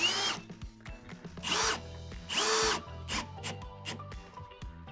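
A screw gun drives a drywall screw while drywall is hung, giving several short, rising motor whirs in quick succession, fairly quiet and close, with pauses between bursts and no talking.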